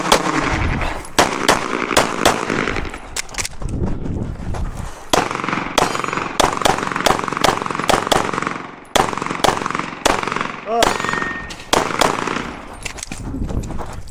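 A Glock 17 pistol fires at a USPSA match, with loud, sharp outdoor gunshots in rapid strings and short pauses between them, all close to the shooter.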